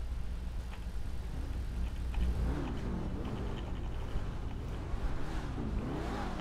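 An Audi RS3 engine in GTA 5 revs up and down in steady, moderately loud swells over a low rumble, with no talking.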